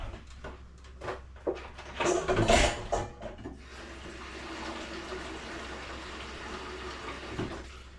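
Water pours into a container of pickling cucumbers, a short splashing gush followed by a steadier, quieter running fill.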